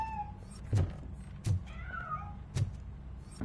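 A cat meows in the video game RoboCop: Rogue City, a few short cries spaced across the moment, each with a soft thump beneath, over quiet game ambience with no talk.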